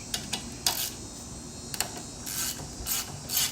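A ratchet with a number 8 socket loosens a battery nut on a Westinghouse WGen 9500 tri-fuel generator, giving short quiet clicking bursts, several spaced clusters of rapid metallic ticks.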